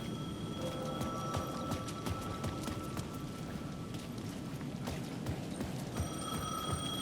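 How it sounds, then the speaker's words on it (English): Payphone ringing at the edge of a plaza in the video game Alan Wake 2, a faint repeating electronic ring heard at a distance under ambient night noise and scattered footsteps, with no voices. "The payphone at the edge of the plaza was ringing again."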